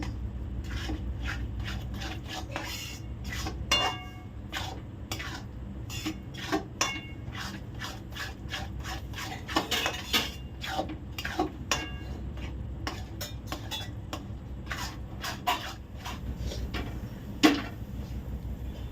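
Semolina barfi mixture stirred briskly in a pan on the stove, giving a steady run of rhythmic scraping and tapping strokes against the metal that stay close and moderately loud throughout.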